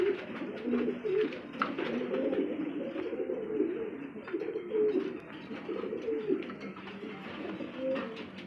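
Pigeons at a pigeon farm, including Danish and Roman breeds, coo close by in overlapping, rhythmic low calls from several birds throughout, with faint chirps and no talking.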